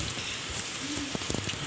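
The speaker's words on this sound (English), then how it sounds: "See guys, it's just raining like anything." Heavy rain falls in Karnataka, India, as a steady dense hiss with scattered close drips and taps, and faint indistinct sounds in the background.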